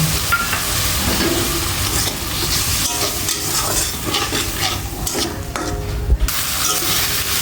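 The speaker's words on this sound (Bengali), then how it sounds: "স্বাদ মতো লবণ, টমেটো কুচি, ধনে বাটা দিয়ে ভালোভাবে আমি কষিয়ে নেব।" Salt, chopped tomato and coriander paste sauté in a hot pan for a mung dal with fish head, giving a steady oily sizzle with spatula stirring and scraping throughout, close and continuous with no talk.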